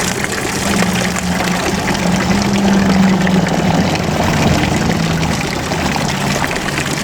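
A long-standing old town water fountain in Büdingen, decorated with three frogs, pours and splashes in a loud, constant, unbroken rush.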